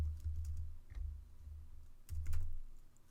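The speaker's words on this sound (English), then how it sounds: "Sorry for the keyboard noises." Typing on a computer keyboard during a Super Mario Sunshine play session: scattered clicks and short bursts of keystrokes, close but fairly soft, over a low rumble, with no talk.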